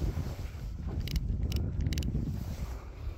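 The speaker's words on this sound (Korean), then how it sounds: "바람이 세게 불어가지고." Steady, heavy wind buffets the microphone outdoors at a drone launch on a blustery coastal day, a constant low roar with faint mechanical ticks, no talking.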